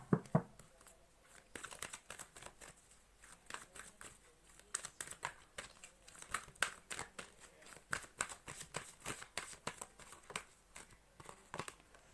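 A deck of tarot cards is shuffled and handled up close, with a dense run of quiet, rapid flicks, slaps and papery riffles continuing steadily throughout.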